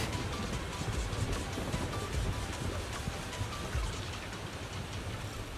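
Rain in the video game Zenless Zone Zero, heard in a city: a constant hiss of falling drops with a low rumbling undertone, loud and steady with no talking.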